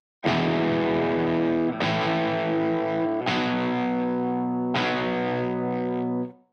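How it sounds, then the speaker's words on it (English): Four strummed electric guitar chords with effects and distortion ring out in a 12-bar blues turnaround ending on B5, each chord struck loud and left to sustain for about a second and a half, with no talking. "So let's just have a listen to that turnaround."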